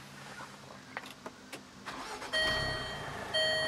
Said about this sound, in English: And when you start the car, which I will do right now,